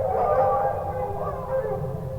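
Dogs howl in a sustained, wavering chorus, loud and unbroken for a couple of seconds, with no talk over it.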